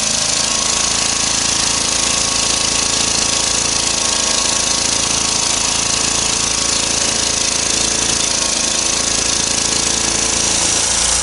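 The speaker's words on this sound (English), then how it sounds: "we've got the little generator running at long last" Small Honda E40 generator engine running steadily, loud and close with a constant harsh drone that holds unchanged throughout.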